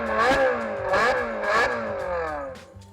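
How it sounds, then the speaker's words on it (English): A 1999 Ferrari 360 Modena engine revs hard in three rising, high-pitched surges, each climbing and falling back, loud and close with no talking. "I compared the sound of a Ferrari 360 Modena made in 1999, which sounds like this"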